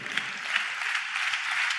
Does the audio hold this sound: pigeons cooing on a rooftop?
no